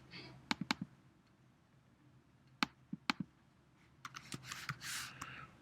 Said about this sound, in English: I'm going to type in here exit.